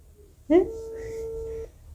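A phone call rings out unanswered, with a single steady ringback tone holding for about a second after a short burst at its start, then silence.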